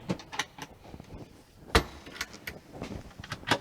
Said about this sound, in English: cutlery drawer here